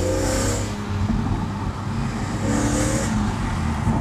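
A BMW E86 Z4M Coupé with a naturally aspirated 343 PS engine accelerates hard, giving a loud, steady engine drone with rising tonal harmonics that carries throughout, with no talking.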